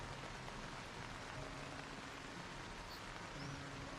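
Rain falls in Project Zomboid as a faint, continuous hiss of drops on surfaces, even and unbroken for the whole stretch, with no voices.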